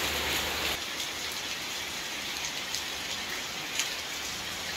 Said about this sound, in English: this is the first rain that we've had since we've been here